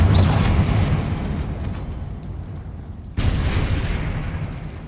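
Blasts from the Confringo spell in Hogwarts Legacy during a fight with spiders: a heavy booming explosion decays into rumble, then a second sharp blast hits near the end.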